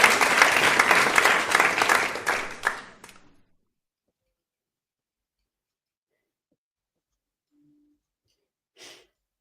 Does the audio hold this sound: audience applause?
yes